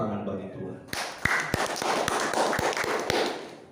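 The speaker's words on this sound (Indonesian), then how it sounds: "Tepuk tangan bagi Tuhan" A church congregation at a Sunday worship service begins clapping, scattered sharp claps building into a short burst after a preacher's voice, fairly close and moderately loud.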